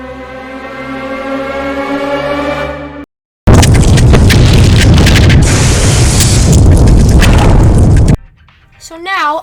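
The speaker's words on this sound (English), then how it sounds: "let's get to the explosion" A massive crater blown up in Minecraft, starting with a tonal musical lead-in, then a short silence and a long, loud, dense blast roar lasting several seconds before cutting to a quieter tail.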